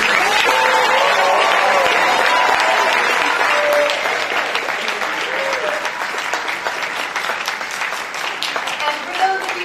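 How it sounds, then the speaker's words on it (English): A school audience at a senior walk and awards event applauds graduating seniors in a loud, sustained ovation with cheering voices mixed in, tapering slightly toward the end. "So let's give a special round of applause to our seniors."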